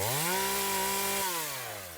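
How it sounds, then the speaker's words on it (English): A chainsaw cuts through a table, its engine holding a loud steady buzzing note before the pitch drops and the motor winds down near the end. "It's a table chainsaw massacre."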